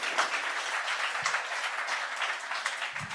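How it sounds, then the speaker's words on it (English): An audience at an investment summit finale applauding, dense continuous clapping from a crowd, steady and fairly loud throughout. "Can we give them a round of applause"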